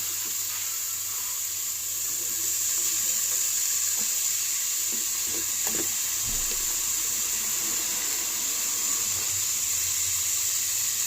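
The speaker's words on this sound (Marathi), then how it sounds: "आणि हे बरेशे तळसून घेऊया." Chopped onion sizzles in hot oil in a pan with red chilli powder and Malvani masala, the start of a Malvani-style mutton liver sukha; a steady close frying hiss runs throughout, with a few soft stirring clinks and no voices.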